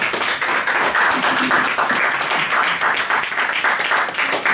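Church congregation applauding, a dense steady patter of many hands clapping at moderate loudness for a few seconds.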